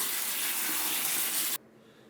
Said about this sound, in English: we wanna rinse it with cold water to immediately stop that cooking